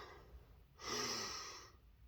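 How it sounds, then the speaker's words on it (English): A single audible breath drawn through the nose, a soft airy hiss that swells and fades, close to the microphone in an otherwise quiet setting. "Breathing in the nose and out the nose."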